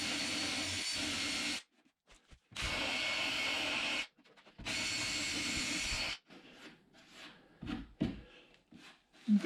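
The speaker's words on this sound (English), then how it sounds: "I got this Mickey Mouse drill mounted sandpaper, and let's see how that works" A small drill with mounted sandpaper smoothing the edge of an epoxy countertop whirs in two long bursts with a shorter one, separated by pauses filled with faint handling noises.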